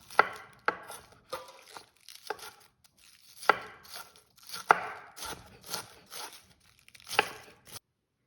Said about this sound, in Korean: 그리고 양배추는 잘게 썰어서 다져서 소금에 살짝 절여서 물기를 짜주도록 하겠습니다.